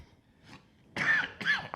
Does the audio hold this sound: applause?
no